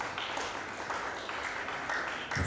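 A conference audience applauds a panel speaker, a continuous wash of many hands clapping at a moderate distance and level, rising slightly near the end.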